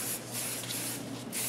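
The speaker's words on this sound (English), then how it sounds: "I wanna give it a big spray" Hairspray sprays onto short curled hair in a close, continuous hiss, broken by two brief pauses.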